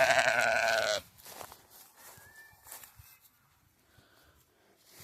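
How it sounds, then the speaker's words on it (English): An older Katahdin ewe on a homestead lets out one loud, close bleat lasting about a second, followed by quiet with faint chirps in the background. "She's a Katahdin sheep."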